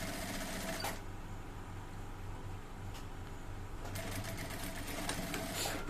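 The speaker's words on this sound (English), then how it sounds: "Trying to sew the neck." Sewing machine stitching the neck of a kimono jacket, running in a steady continuous whir at close range with brief changes in pace, no talking.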